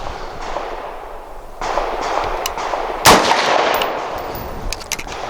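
A Dark Storm Industries non-NFA Variant 1 firearm fires a single loud, sharp shot near the middle, standing out against a steady background hiss with a few smaller knocks around it.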